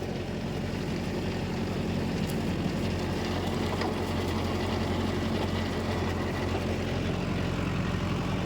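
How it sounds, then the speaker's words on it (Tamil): A tractor pulling a rotavator through dusty farmland labours under heavy load, its diesel engine a loud, steady, unbroken drone with no voices. "வண்டி சும்மா தப்ப தப்ப தப்ப தப்பன்னு பார்த்தீங்கன்னா பயங்கர லோடு வாங்குது"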